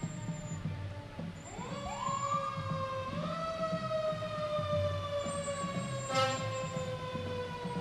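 The siren of a 2018 Pierce fire engine from the Appleton Fire Department wails in a parade, its tone sweeping upward and then holding a steady, loud pitch over a low engine rumble, with a brief horn-like blast near the end.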